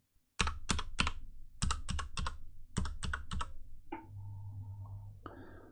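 Typing on a mechanical keyboard fitted with double O-ring dampeners gives close, crisp clicks in three quick bursts of about three keystrokes each, followed by a brief hum and a rustle, with no one speaking.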